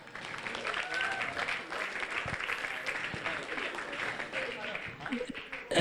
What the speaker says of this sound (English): big round of applause to everyone who's made a speech so far